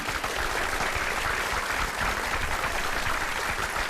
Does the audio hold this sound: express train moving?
no